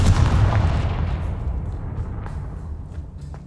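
A Confringo spell blast in Hogwarts Legacy lands as one heavy, close, booming burst like artillery fire, then fades into a deep rumble over a few seconds.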